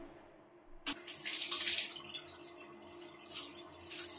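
Tap water runs steadily into a basin for washing hair, starting with a sudden gush and then flowing as a continuous hiss, close by and with no talk.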